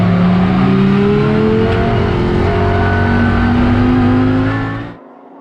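Emil Frey's Jaguar and Lamborghini race cars overtaking on a circuit, with loud, close engines revving and rising in pitch before cutting off abruptly near the end.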